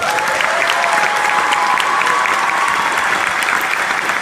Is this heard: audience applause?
yes